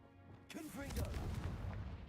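A Confringo fire spell explodes in Hogwarts Legacy, a swelling boom and crackling burst that rolls on for over a second, with a voice heard calling out during it.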